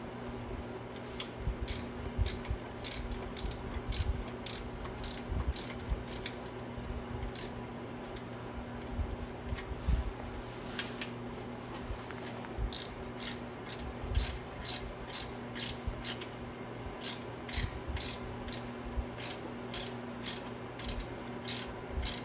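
A ratchet wrench clicks in quick rhythmic runs while turning bolts on a Jeep Wrangler JK during idler pulley, serpentine belt and alternator work, with steady ticking strokes, brief pauses and a low background hum.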